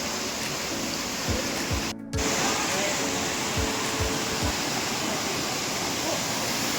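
A powerful waterfall at Sundha Mata in Rajasthan roars in a dense, unbroken hiss close by, with faint low thumps and a brief dropout partway through.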